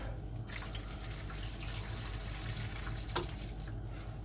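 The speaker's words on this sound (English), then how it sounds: "So I'll just pop them in a tray of water behind you there. Just top that up." Water is poured from above into a tray to top it up for soaking tomato seeds, making a steady splashing trickle close by that runs the whole time without a break.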